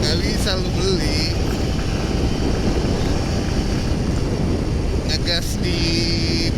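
A Kawasaki Ninja RR 150 two-stroke motorcycle engine drones steadily at close range, its buzzing note rising briefly as the throttle is revved.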